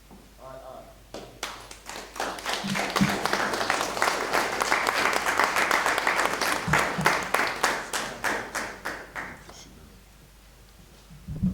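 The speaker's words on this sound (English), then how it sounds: "Let's give our keynote speaker, Reverend Kobe Little, another round of applause" An audience at a Malcolm X 100th anniversary lecture gives the keynote speaker a round of applause, clapping that builds quickly to a full steady crowd roar lasting about eight seconds before fading.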